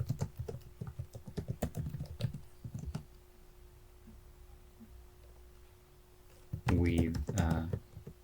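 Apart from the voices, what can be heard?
typing a GitHub repository description on a computer keyboard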